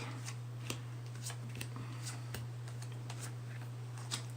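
Tarot cards are shuffled and drawn nearby in a quiet room: soft, quick riffling and flicking with light taps and clicks, fairly faint and with no speech.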